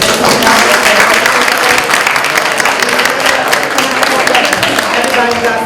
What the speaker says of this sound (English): So everybody, can we get a round of applause?